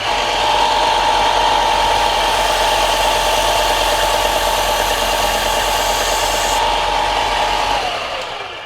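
A Klingspor abrasive cleaning stick pulled across a running sanding belt gives a loud, steady motor drone with a raspy scraping hiss on top, continuous for several seconds before the hiss drops out and the motor winds down.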